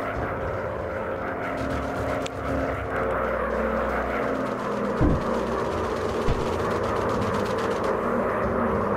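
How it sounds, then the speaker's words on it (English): World War I enemy fighter planes approach in a VR air-combat game, their propeller engines droning steadily and loudly throughout, with a couple of brief thumps cutting through the continuous roar. "Da kommen feindliche Flieger an."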